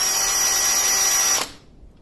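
Cordless drill on a lithium-ion battery left uncharged for three months, running with a loud steady high whir for about a second and a half before stopping abruptly.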